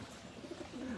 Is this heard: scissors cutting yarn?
no